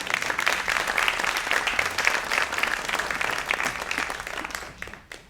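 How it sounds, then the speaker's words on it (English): Enthusiastic audience applause at a live Marisa Massery concert, thanking her engineer friend Darren; thick, continuous clapping that holds strong for several seconds, then quickly dies away at the end. "Yes, clap it up."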